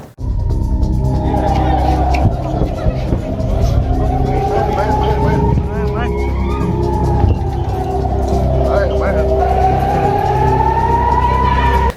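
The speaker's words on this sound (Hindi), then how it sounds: "इजरायली सेना ने संभावित आने वाले रॉकेटों की चेतावनी देते हुए तेल अवीव में सायरन भी बजाया है" A loud air raid warning siren in Tel Aviv wails continuously, rising and falling in slow sweeps over heavy background noise, warning of incoming rockets.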